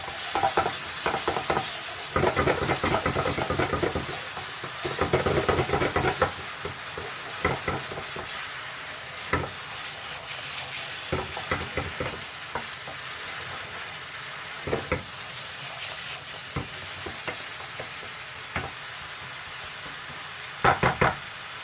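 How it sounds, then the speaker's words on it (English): Steady sizzling of ginger and garlic paste frying in a hot pan, punctuated by occasional knocks and scrapes of a utensil stirring, no voices. "Who doesn't love the smell of ginger frying?"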